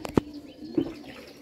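Bombay breed pigeons giving two short, low, close coos, the first at the very start and the second a moment later, with quiet background in between.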